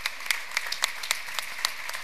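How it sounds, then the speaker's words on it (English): A conference audience claps in a brief, fairly thin round of applause, individual hand claps standing out in an uneven patter. "A big hand of applause."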